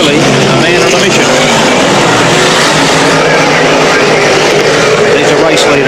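Sprint cars race at Archerfield Speedway during the 1996 National Sprintcar Championship, a loud, continuous engine roar filling the track with a voice talking beneath the din.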